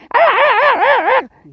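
A voice imitates puppies fighting, a loud, warbling whine that wavers up and down for about a second, close and alone.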